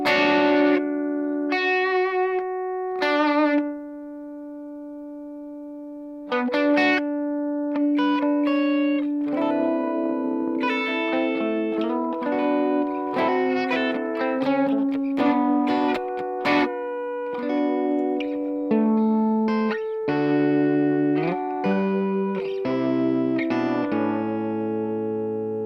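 Electric guitar played through a Chase Bliss Lost and Found multi-effects pedal set to high feedback and a higher octave, ringing sustained chords and notes with shimmering pitched repeats, a brief gap early on, then busier melodic phrases building loud and dense.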